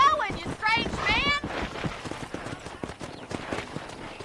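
In the Western video game Red Dead Redemption, a horse trots with steady clip-clop hoofbeats while characters talk over the top, the rhythmic hooves continuing throughout.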